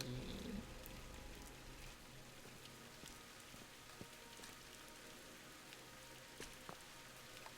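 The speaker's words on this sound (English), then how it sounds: "Oh, it's raining." Rain falls softly and steadily in the video game Viewfinder, a faint continuous patter with a few scattered drop ticks.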